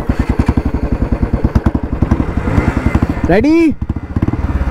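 A KTM RC 125 and a Royal Enfield Classic 350 launch in a drag race, with a steady thumping engine pulse, one bike revving hard in a rising then falling whine, under a brief spoken word.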